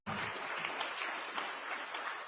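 Steady applause from an audience at an African student leadership forum, dense and continuous throughout with no break, at a moderate level.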